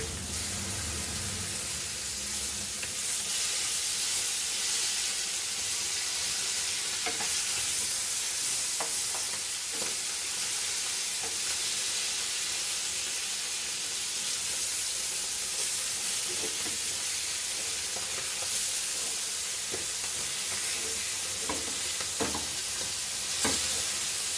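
Sole fish sizzling steadily in a frying pan on a home stove, a continuous bright hiss and crackle with occasional scrapes and taps as the fillets are turned over, no talking.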